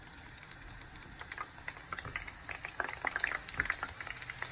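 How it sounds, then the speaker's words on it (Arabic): Onions frying in oil in a cooking pot give a soft, crackling sizzle with scattered small pops and bubbling, faint and continuous, growing slightly busier toward the end. "واحمر بقى البصل"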